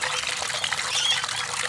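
Water from a small garden irrigation system trickles into a helmet shell, making a soft, continuous splashing patter close by with no talk.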